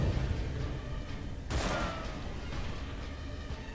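A gunner firing in the dark fantasy game Darkest Dungeon: one sharp, loud gunshot burst cuts through low rumbling background noise and quickly fades away.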